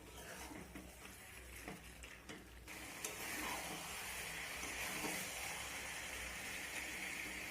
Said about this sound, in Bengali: এখানে গরম মশলা আর চিকেন মশলাটা দেওয়ার পর আমি আবারও ভালো করে কষিয়ে নেব